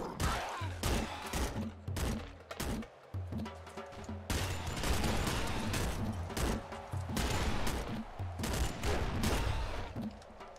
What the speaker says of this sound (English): I'm just gonna go all guns blazing here and see what happens.